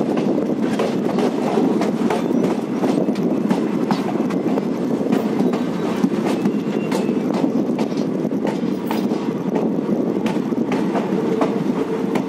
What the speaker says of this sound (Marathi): ट्रेन आलेली आहे जेजुरी स्टेशनला